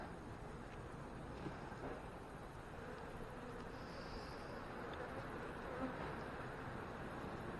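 Honey bees drone steadily around an open hive as the comb is being drawn out, a faint, continuous buzzing hum with a light outdoor background and no talking.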